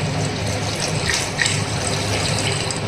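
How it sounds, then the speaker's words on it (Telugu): Water poured from a glass into a pot of soaked basmati rice, measured out for a prawn pulao, making a steady close gush that runs the whole time with no talking. "ఈ గ్లాస్ తోటి నేను మూడు గ్లాసులు బాస్మతి రైస్ తీసుకున్నాను అదే గ్లాస్ తోటి ఆరు గ్లాసులు నీళ్లు పోస్తున్నాను"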